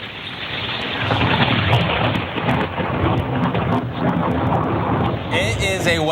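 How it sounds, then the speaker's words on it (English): Thunder during a snowstorm rolls as a loud, sustained low rumble through muffled snowy air, and a voice comes in briefly at the very end. "So thunder during snow, it's so quiet, the muffled sound, and then you get thunder."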